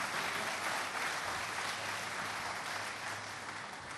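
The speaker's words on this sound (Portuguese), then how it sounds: "Dê uma salva de palmas a esse Deus maravilhoso" Congregation clapping during a church service, a continuous wash of applause heard from some distance and fairly soft, steady for the whole stretch.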